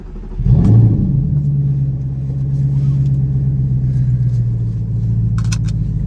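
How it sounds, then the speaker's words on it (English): An Audi R8 V8 engine with a titanium exhaust fires up with a loud burst, then settles into a deep, steady, rumbling idle with a throaty exhaust note, close by. "Quicksilver titanium exhaust test on the V8."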